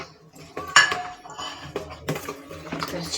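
Boiled potato pieces and apple being stirred together in a bowl for dahi pakoriyan, with repeated clinks and scrapes of a spoon against the dish, fairly close and with no voices.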